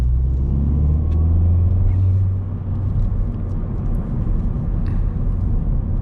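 Ford Fiesta ST with a 1.6 liter engine accelerating, heard from inside the cabin as a loud low droning rumble that climbs in pitch, then settles into a rougher steady engine roar.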